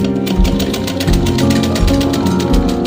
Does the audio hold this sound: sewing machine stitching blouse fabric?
yes